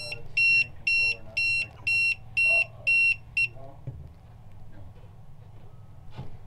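A boat autopilot alarm beeps in a steady series of about seven loud, evenly spaced high-pitched tones, then stops, leaving faint handling noise.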